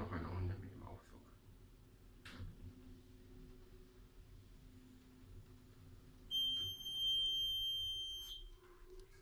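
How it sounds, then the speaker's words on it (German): A Janzhoff elevator in a HEMA store in Dortmund gives a short electronic beep as it stops at a floor. The bright tone is heard near the end over low hum and motor noise, with a person speaking nearby. "Also ein Piep, der Aufzug an der Etage hält"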